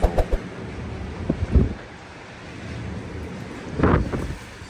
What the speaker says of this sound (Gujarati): અત્યારે વાવાઝોડું આવ્યું છે. એટલો ફૂલ પવન આવે છે.